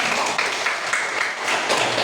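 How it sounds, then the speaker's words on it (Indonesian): Schoolchildren in an Indonesian classroom clap together after a correct answer. A dense, even patter of small hands runs throughout at moderate loudness, with no talk on top. "Betul, tepuk tangan."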